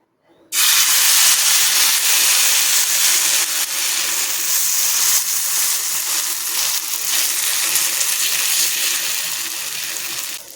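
Uttapam batter spread over an oiled hot tawa griddle sets off a sudden loud, sustained hissing sizzle that holds steady and close for about ten seconds with no talking.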